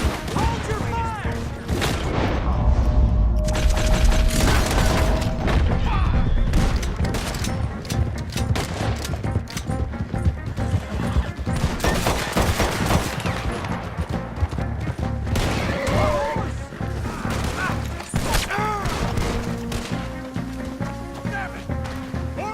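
A shootout in the video game Red Dead Redemption 2, with continuous loud rapid gunfire and crashing impacts under shouted voices throughout.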